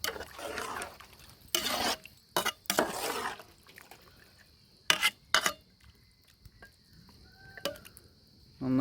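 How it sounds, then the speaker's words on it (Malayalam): A spoon stirs country-style chicken curry in a pan, giving several loud scraping bursts against the metal separated by quiet gaps, with a faint high hum underneath and no voices. "നന്നായിട്ടൊന്ന് മിക്സ് ചെയ്ത് കൊടുക്കുക."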